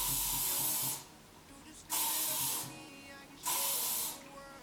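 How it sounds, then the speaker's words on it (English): Hairspray hisses from a can onto hair in three close bursts, each about a second long with short gaps between them, bright and breathy at moderate volume. "I'm gonna be using the lacquer or the hairspray"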